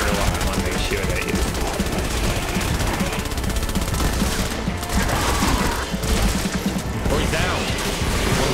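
Husk enemies fire nonstop in the Fortnite Save the World game, rapid gunfire and impacts that fill the whole stretch at high volume while a player's voice talks over the din.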